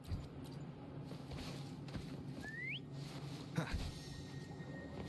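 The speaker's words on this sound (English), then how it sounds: "Try whistling." A faint, short rising whistle calling the creature Foam in Wuthering Waves, one quick upward-sliding note heard over a soft, steady game background.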